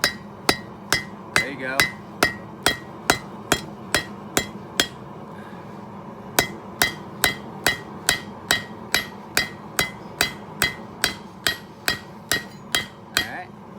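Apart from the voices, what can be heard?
hammer striking metal while forging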